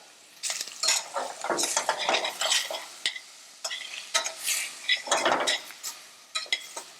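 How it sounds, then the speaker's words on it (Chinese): Chunks of fish being stir-fried in a pan for a curry seafood pasta, with lively sizzling and repeated scraping, clattering strokes of a utensil against the metal, close and loud with brief pauses. "我裁切的体积稍微比较大，所以我先把它放下去炒。"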